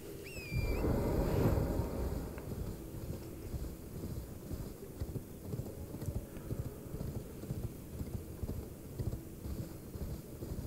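Horse hooves clip-clopping in the video game Elden Ring, a steady galloping rhythm with a loud rush of wind early on, continuing fairly close throughout.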